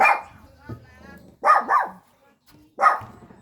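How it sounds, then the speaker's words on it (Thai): A dog barks at home, two sharp, close barks a second or so apart after a brief earlier sound, with a person's voice heard nearby between them. "อย่าเห่ายายดีดีจ้า"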